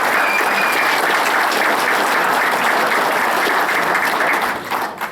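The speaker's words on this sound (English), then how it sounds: "Please don't clap." Sustained applause from a crowd at a rally supporting the Constitution Pipeline in Afton, loud and steady throughout before easing slightly at the end.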